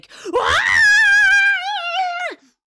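A human voice imitating the Wilhelm scream, delivered as one loud, sustained falling-then-steady wail lasting about two seconds before cutting off abruptly, alone and close.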